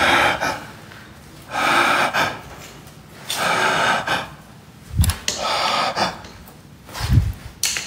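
Heavy, ragged gasping breaths come in repeated bursts, a loud intake roughly every one to two seconds, close and alone with no talk, during a frightening night exploration of an abandoned clinic.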